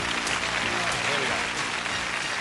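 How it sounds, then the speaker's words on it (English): A studio audience on a game show bursts into steady, dense applause, loud and close, filling the moment as one continuous wash of clapping with no talk heard. "Let's give them all a nice round of applause."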